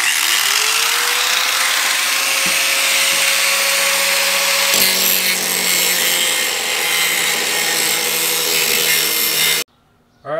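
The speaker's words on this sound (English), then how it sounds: "we're going to grind that down to where it meets this lip right here" Power grinder cutting into a metal part on a Honda Civic during weight-reduction work, a loud continuous whine holding steady for about nine seconds before stopping abruptly near the end.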